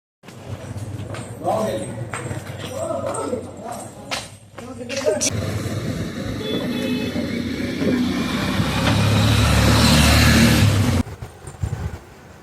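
A motorbike is wheeled out and started outdoors, its engine rising into a steady, fairly loud idle that runs for several seconds before cutting off; footsteps, handling noise and a few speaking voices come first.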